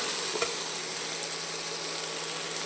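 Tomatoes cooking down with tamarind in a pan give a steady, even sizzle and hiss, close and continuous, with only a faint tap or two of stirring and no voices.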